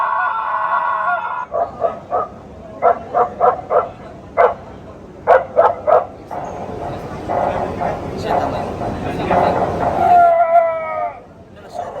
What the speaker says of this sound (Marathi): कुत्र्याच्या भुंकण्याचा आवाज आहे